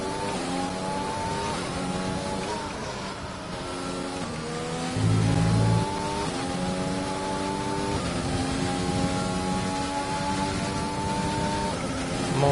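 Engine of an F1 2020 race car on the Netherlands circuit, a high, steady whine that rises and falls through gear changes and lap after lap, loud and close throughout.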